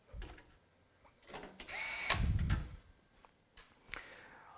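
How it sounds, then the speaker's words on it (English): Screws driven down by hand while a circuit board is mounted on standoffs during a computer build, a few short scraping turns and mechanical rasps with a louder grinding burst in the middle, close-up, no talking. "You'll also hear me tightening these screws down."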